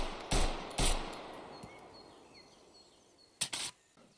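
Pistol shots from a reliable sidearm in the Road to Vostok game, four sharp loud cracks in two pairs, each ringing out with a decaying tail over quiet outdoor ambience with faint birdsong.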